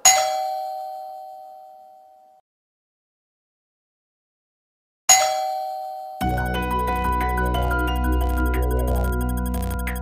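A doorbell sounds twice, each time a ding-dong chime that rings out and decays, with a silent gap between the rings. Soft music begins after the second ring.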